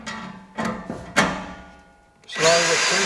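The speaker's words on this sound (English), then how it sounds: "Now the thing is to put some pressure on and drill slowly." Power drill driving Tek screws slowly under pressure into a steel raised garden bed, a few short whirring bursts followed by a longer, louder sustained run close by.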